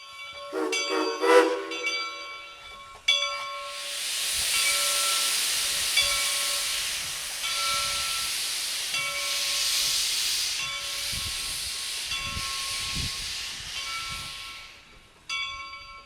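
Steam locomotive 425's loud, sustained hiss of escaping steam, preceded by a bell ringing and whistle tones, with low rumbling chuffs underneath as it backs out of a siding on the Reading and Northern.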